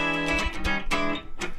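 Electric guitar heard through the bridge pickup, a quick run of bright, twangy strummed chord stabs, close and fairly loud with no speech over it.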